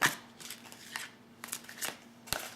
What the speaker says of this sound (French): on va tirer une carte du tarot des fées